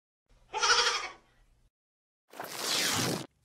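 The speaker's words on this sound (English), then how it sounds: "G is for goat." A goat bleats twice, close and loud: a wavering, voiced cry followed after a pause by a harsher, raspier second call, with no other sound around them.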